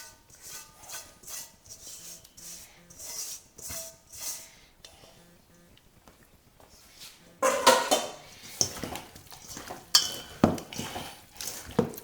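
Marinade goes onto 4 pounds of deer or wild hog meat in a larger mixing pan, with clinks, scrapes and wet knocks of pan and utensil that grow busier and louder partway through.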